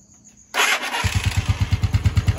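A Rusi TC-125 motorcycle from a junk shop, its starter wiring redone, cranks on the electric starter and catches into a loud, rhythmic, close idle.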